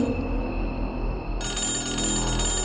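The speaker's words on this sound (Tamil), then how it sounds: "நடு ராத்திரியில அவனுக்கு மறுபடியும் கால் வருது." A telephone ringing at midnight, a steady electronic bell tone that continues without a break for the whole short stretch, loud and close.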